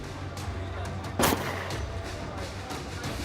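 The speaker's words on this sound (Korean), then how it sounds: "생각지도 못한 총소리였습니다" A single sharp, loud gunshot cracks once against a low, steady background rumble, then the quieter backdrop continues.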